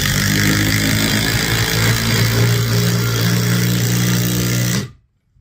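A DeWalt impact driver with a half-inch socket runs steadily and loud for nearly five seconds, driving a fastener down with a continuous buzzing hammer, then cuts off abruptly into silence.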